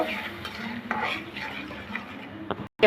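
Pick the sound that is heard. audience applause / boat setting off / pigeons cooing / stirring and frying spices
stirring and frying spices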